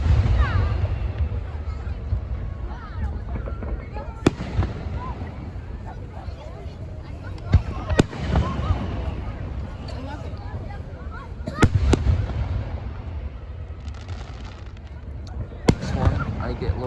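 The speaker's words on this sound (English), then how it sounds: "Nice explosion, though. These nice Juneteenth fireworks, they're pretty nice, yo." Juneteenth fireworks burst in sharp, loud booms at intervals of a few seconds, with crackling and rumbling between them and voices talking underneath.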